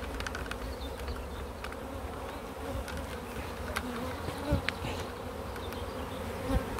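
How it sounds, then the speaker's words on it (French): A swarm of honeybees from a hive buzzes in a thick, constant hum close at hand, with occasional louder bees zipping past and faint bumps underneath. "Vous voyez les abeilles là, elles battent le rappel."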